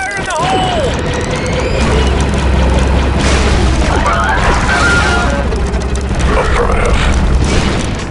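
A grenade blast in the Star Wars Republic Commando shooter is a loud, sustained boom with deep rumble, layered over mechanical game effects and combat noise, with in-game voices partly audible.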